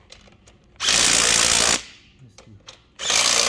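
A power drill tightens assembly bolts in two loud, close whirring bursts of about a second each, separated by quieter handling clicks and a brief spoken remark.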